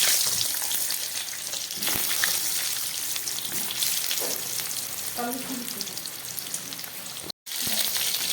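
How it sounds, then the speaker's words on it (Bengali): Eggplant pieces fry in hot oil, producing a steady, dense sizzle with faint crackles that continues unbroken except for one brief gap near the end. "এবার এই তেলের মধ্যে আমি একটু বেগুনগুলো ভেজে নিচ্ছি"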